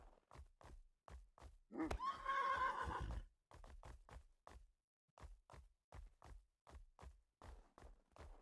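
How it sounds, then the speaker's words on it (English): A horse neighs loudly in the fantasy game Mortal Online 2, one long whinny rising over steady clip-clop hoofbeats that repeat alongside it throughout. "Keep pushing around for these horses that are supposedly over here."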